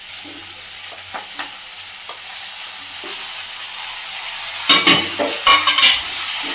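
Tomatoes and green chillies fry in a pan, sizzling quietly and steadily under a spoon that stirs and scrapes in occasional clinks, then grows louder with a few sharp bursts of spattering near the end.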